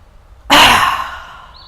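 A single deep breath drawn in sharply and then let out in a long, slow, soft exhale, close and alone during a relaxation exercise.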